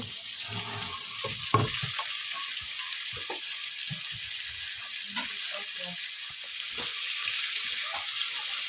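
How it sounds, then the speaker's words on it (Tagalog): Chicken breast sautéing in a pan for pancit sotanghon guisado, a steady hiss of frying with faint clinks and stirring, no talk. "next natin ilagay ang ating chicken breast. So, isutin muna natin ito"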